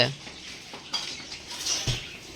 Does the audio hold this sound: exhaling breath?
no